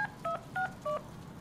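Four electronic telephone keypad tones dialed in quick succession in the Deadpool video game, each a short two-tone beep, clean and fairly quiet over faint background hum.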